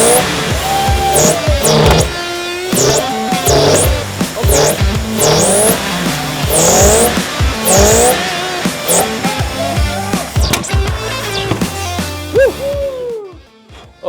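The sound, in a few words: Toyota Land Cruiser engine running with popping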